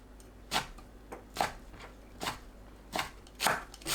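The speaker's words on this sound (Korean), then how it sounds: "묵은지는 심지를 잘라내고 1cm 너비로 썰어줍니다." Knife chopping aged kimchi, cored and cut into 1 cm strips, on a cutting board: five spaced crisp chops at a slow, steady rhythm, close and moderately loud with no talking.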